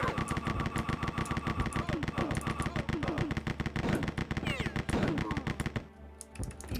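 Rapid weapon fire from the split missile launcher in the Rise of the Triad shooter, a dense stream of loud repeated blasts and explosions that runs for several seconds, then cuts off into a quieter tail.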